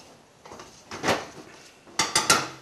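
Cooked noodles stirred with a little green olive oil in a pot, giving scraping and sliding swishes, then three quick clanking knocks of a utensil against the pot, close and moderately loud.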